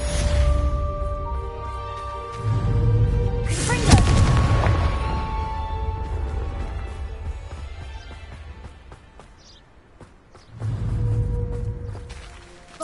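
Bombarda spell blasting pumpkins in the video game Hogwarts Legacy, a deep booming explosion with a whoosh over a sustained musical score, a voice calling out the spell, and a second boom near the end.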